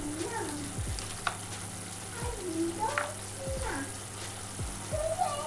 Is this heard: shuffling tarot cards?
no